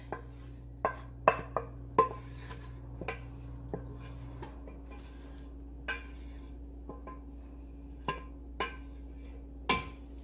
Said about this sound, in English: we're just going to start spreading that around and getting it evened up here in the pan